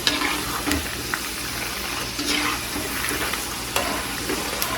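Raw peanuts roast in a pan for a Kerala-style mixture, with soft continuous sizzling hiss and occasional light scraping clicks from stirring, fairly quiet and without talk.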